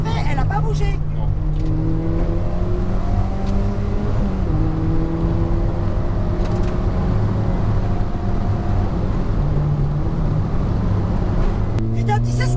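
A Volkswagen Golf GTI 1800 Mk1 drones loudly from inside the cabin while driving, the engine note rising steadily in pitch through the gears and dipping at a lift-off, with people talking over it.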